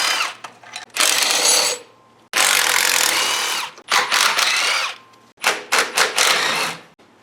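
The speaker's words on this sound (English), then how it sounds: "Pop the AC compressor off." A power tool, likely a drill or ratchet, runs in loud, rasping bursts of one to two seconds separated by short pauses while a car's AC compressor is unbolted during an LS engine swap; close, with no talking.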